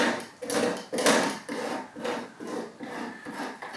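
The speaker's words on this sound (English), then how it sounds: "Scraping some of the boards as well, so I think the glue I used was really strong actually." A scraper works dried, strong glue off the wooden boards of a model railway layout in quick repeated strokes, a close, rhythmic rasping scrape about twice a second with no voices.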